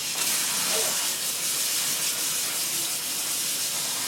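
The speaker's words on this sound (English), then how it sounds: "I run some cold water over it and give it a nice rinse before we put it into the Instant Pot" Cold tap water runs steadily over wild rice being rinsed before it goes into an Instant Pot, a continuous close hiss and splash of flowing water with no voices.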